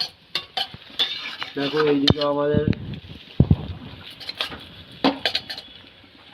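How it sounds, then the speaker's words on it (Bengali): Chow mein is stirred and broken up in a metal pan with a utensil, giving sharp clattering scrapes and a light sizzle, with someone talking briefly over it. "চাউমিন নাড়ানাড়ি হচ্ছে, চাউমিনের কুচিগুলো ভাঙা হচ্ছে"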